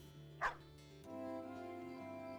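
Dogs in the video game Battle Brothers give a single short bark over steady game music and ambience, followed by a low background hum.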